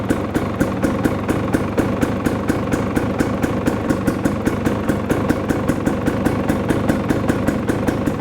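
A KTM two-stroke TPI dirt bike engine idles steadily and close up, with a quick, even pulsing beat that holds unbroken throughout, with no voices.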